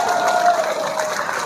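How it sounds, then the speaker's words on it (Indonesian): Applause from a male audience at an Isra' Mi'raj religious gathering in Banjar Margo, Tulang Bawang, a steady crowded clapping texture filling the whole moment without a break. "Tepuk tangan ya Bapak."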